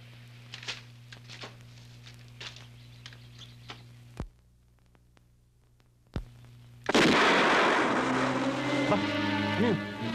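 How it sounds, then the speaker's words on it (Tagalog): Two sharp gunshots from a Filipino action film crack out a couple of seconds apart over a steady low hum, followed by a loud burst of roaring, crackling noise with tonal whines. "Patok ng baril yun ah."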